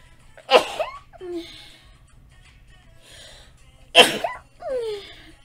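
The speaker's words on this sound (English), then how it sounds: "I have to sneeze." Two loud sneezes a few seconds apart, each followed by a short breathy sniff or gasp, close up in a quiet room.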